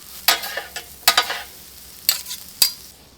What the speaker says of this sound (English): Sauteed onions and butter right over top of it, so that way all those flavors marry together.